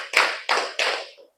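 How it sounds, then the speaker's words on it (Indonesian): Three crisp unison claps from a group playing a counting ice-breaker in class, evenly spaced and close, followed by a softer trailing clap as the rhythm ends. "Tepuk 1, tepuk 2, tepuk 3, tepuk 3"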